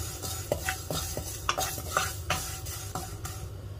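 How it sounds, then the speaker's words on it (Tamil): Vermicelli lightly roasting in a pan over low flame as a spoon stirs it, with repeated crisp scraping strokes at a steady rhythm over a soft sizzle, close and fairly quiet. "இதில் கொஞ்சம் சேமியா எடுத்து வச்சிருக்கிறேன். அதை இப்போ நாங்கள் லைட்டாக வறுத்தெடுப்போம்."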